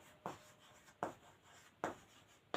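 A teacher writes out a chemistry definition by hand: three short, crisp scratching strokes spaced about three-quarters of a second apart, close and quiet, with no talking.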